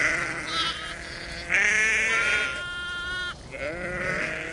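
Primitive sheep bleat in a few drawn-out, wavering calls, close and fairly loud, with one voice overlapping another against a faint outdoor background.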